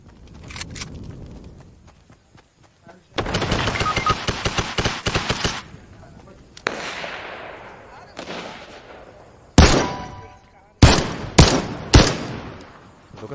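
Weapon fire in a video game: a rapid automatic burst in the middle, then several sharp, loud single shots with echoing tails, separated by quieter gaps.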